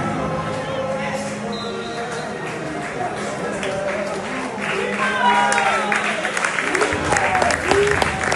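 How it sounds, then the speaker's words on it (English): Football crowd at a Gillingham versus Notts County match giving a minute's applause, steady dense clapping from many hands that swells toward the end, with some crowd voices. "joining the Notts fans in a minute's applause for Kim"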